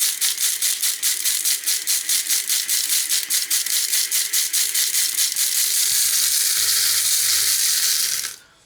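Homemade model railway ballast being shaken in a lidded container, a steady fast rattle of gritty particles with rhythmic pulses, loud and close, then settling briefly before stopping.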